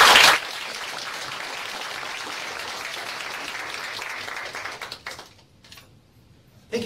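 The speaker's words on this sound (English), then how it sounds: "give yourselves all a round of applause because it's Public Service Week" Audience applause fills a room at a Public Service Week public health ceremony, steady clapping from a crowd that thins and fades out near the end.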